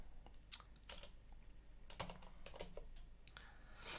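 Close, quiet typing on a computer keyboard during a Linux install, with irregular bursts of clicking keystrokes and brief pauses between them, no voices.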